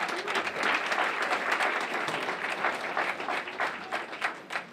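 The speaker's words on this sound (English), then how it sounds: "Let's give them an applause." An audience at a school art exhibit event applauds with dense, steady clapping that carries on for several seconds at a moderate level.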